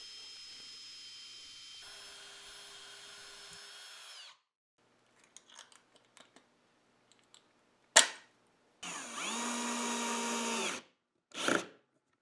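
Power driver sinking screws into wood while building a holder for five flashlights: two short bursts and one long steady whir, separated by quieter clicks and handling noise, close and loud, with no talking.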